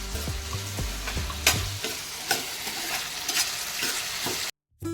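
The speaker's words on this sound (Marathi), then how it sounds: "आपला कांदा टोमॅटो थोडा शिजत आलेला आहे" Onion and tomato cook in a pan with a steady, close sizzle. Several low knocks of a spoon stirring against the pan come early, and a brief silent gap falls near the end.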